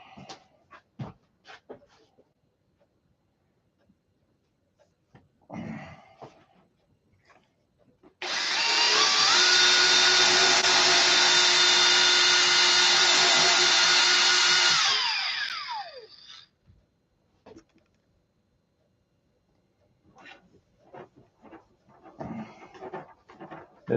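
Power tool sanding and buffing in a stunt aircraft hangar, a loud steady whirring drone lasting about seven seconds before winding down, with scattered clicks and handling noises before and after.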